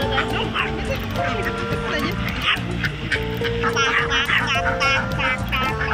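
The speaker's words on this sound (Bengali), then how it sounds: "কত হাঁস এখানটা" Many ducks of various colours at a pond in Parque Metropolitano, Guadalajara, Mexico, quacking and honking in a busy overlapping chorus, close and loud, with people talking nearby.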